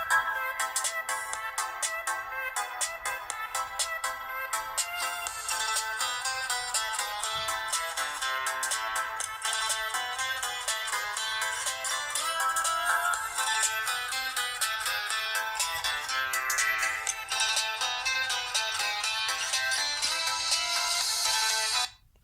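Ringtone melody playing from a ZTE Grand X 4 phone speaker: a steady, bright and tinny tune that runs on without a break, then cuts off abruptly at the end.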